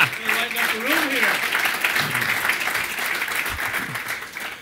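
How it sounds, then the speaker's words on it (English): Audience in a press conference room at a league state-of-the-league event clapping steadily throughout, a dense broad patter of hands with a voice talking over it near the start. "the folks in the room were clearly clapping for the video, not the individual coming up to the podium"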